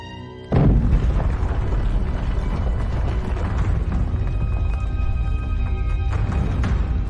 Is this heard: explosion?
yes